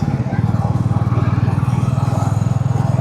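Royal Enfield-style Classic 350 motorcycle engine running warm with a gear change, a close loud steady thumping single-cylinder idle pulse throughout.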